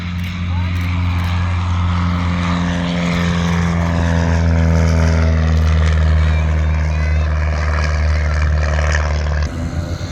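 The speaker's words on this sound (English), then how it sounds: "Don't forget to wave to the planes as they launch, as they go away." Propeller airplanes taking off at the Midland Air Festival 2024, a loud steady droning engine with strong low harmonics, holding close and powerful for about ten seconds before cutting off near the end.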